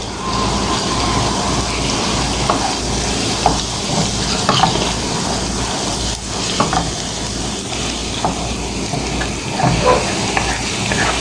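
Garlic and onion sizzle and crackle steadily in a frying pan while being stirred, a dense close hiss with scattered spatula scrapes and pops throughout.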